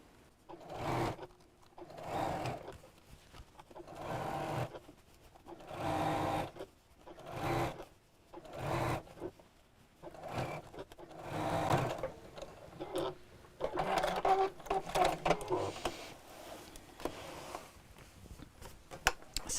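Sewing machine stitching fabric for a rattan-handled bag, running in repeated short bursts of roughly a second each with brief pauses between, close and moderately loud with no talking.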